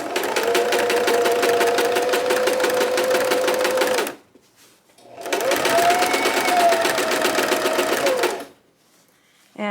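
A sewing machine stitches rapidly while free motion quilting a table runner, running in two steady bursts of about four seconds each, separated by a short pause, loud and close with no talk.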